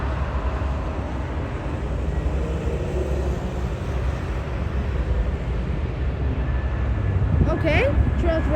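An airliner landing at Miami with a sustained, broad jet roar from the thrust reversers, loud and steady throughout, with a brief voice near the end.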